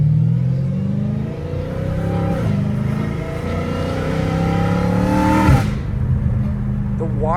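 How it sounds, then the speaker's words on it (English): Catless Dodge Hellcat Redeye with a supercharged V8, its loud deep exhaust rumble and supercharger whine rising steadily under light throttle, heard close from inside the car with a brief dip and surge near the end. "The whine and the exhaust is like everything, dude. It's 2-in-1, bro. Supercharged and V8."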